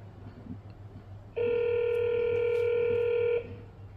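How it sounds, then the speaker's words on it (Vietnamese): A smart device places a phone call, giving one steady electronic dialing tone that starts abruptly, holds loud and even for about two seconds, then cuts off, over quiet room hum. "Bấm gọi này."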